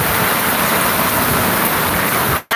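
A downpour hammers near farmland in a constant, loud, close wash of hissing rain that holds evenly before cutting off abruptly at the end, with no one speaking.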